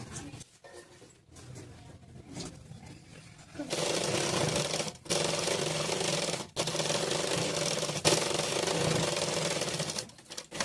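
After quiet fabric handling, a sewing machine stitches the lace border of a blouse in long, loud stretches of fast rhythmic clatter, stopping briefly a few times before running on.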